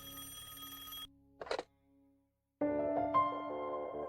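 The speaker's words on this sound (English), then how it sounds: "My phone rang." A telephone bell rings in clear bursts of bright harmonic tone, stops for a short gap with a brief noisy sound in the middle, then starts ringing again, loud and close with no voices.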